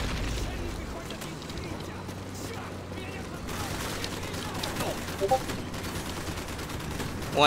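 Bursts of Call of Duty 4: Modern Warfare gunfire, grenades and rumbling booms crackle continuously, with people talking over the battle noise.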